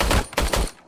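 Gunfire from the Robocop Rogue City video game: three loud, rapid bursts of shots in under a second, each with a heavy low thump, then a short tail fading to quiet.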